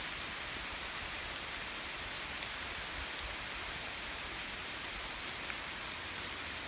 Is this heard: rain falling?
yes